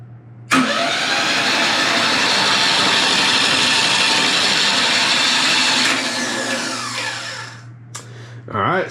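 A turbocharged Iron Duke four-cylinder engine cranks over on the starter, a loud, steady whirring drone lasting several seconds. It then winds down and stops briefly before a short burst of noise at the end.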